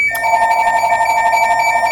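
A telephone rings loudly and steadily close by, a sustained electronic tone that keeps going without a break and with no voices over it.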